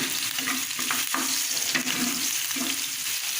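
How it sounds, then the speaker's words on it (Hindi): Onions fry in a pan for stuffed bitter gourd, a loud, close, continuous sizzle with stirring scrapes pulsing through it, no voices. "उसके बाद हमने इसमें प्याज डाल दिया अपना, और ये प्याज हमने डार्क ब्राउन करना है"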